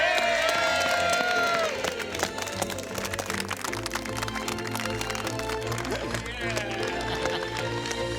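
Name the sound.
applause and cheering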